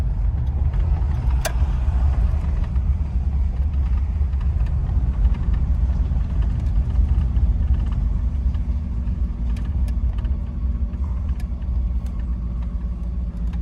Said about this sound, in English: you can hear the motor is just humming